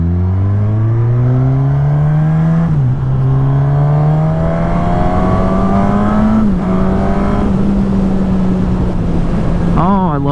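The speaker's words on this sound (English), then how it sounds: "Oh, I love this motorcycle." A 2020 Suzuki Katana motorcycle engine revs loudly and close, its pitch climbing steadily in long pulls with brief dips at gear changes, the rising harmonic whine continuous throughout.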